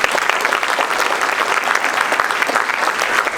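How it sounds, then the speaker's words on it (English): Steady, dense applause from an audience at a live real estate keynote event, a continuous wash of many hands clapping with no pauses and no voices on top. "give a round of applause for Adam and Brent"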